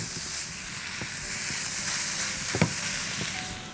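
Minced meat and orzo-style tongue-shaped pasta sauté in a hot pan with a steady, loud sizzle and hiss, broken by occasional scraping stirs and small pops.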